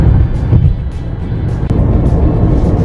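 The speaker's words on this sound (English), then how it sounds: "still driving down Antelope Drive, passing the big golf course over here" Car cruising along Antelope Drive near a large golf course on the way to Antelope Island, Utah: a steady, close road and engine rumble that continues throughout, with no talk.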